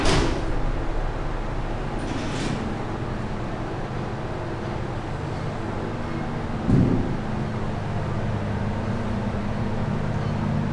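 An Otis hydraulic elevator at Jefferson Station closes its door with a short rumbling slide and a soft thud partway through, set against a loud, steady mechanical hum with a faint click at the start.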